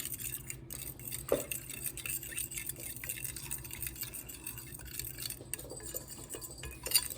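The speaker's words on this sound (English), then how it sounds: "Just whisk this in very well here as much as you can." A whisk clicks and scrapes quickly against a bowl, beating an egg and cinnamon mixture for French toast, a busy, quiet metallic rattle heard close up with no talking.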